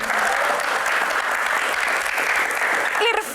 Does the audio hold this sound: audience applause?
yes